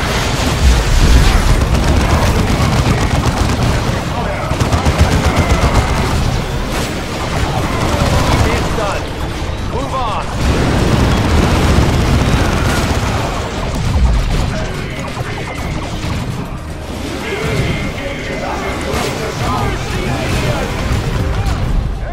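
Loud battle in Dawn of War 2 during a co-op campaign ambush, with continuous volleys of gunfire and blasts rolling in waves; voices talk over the din.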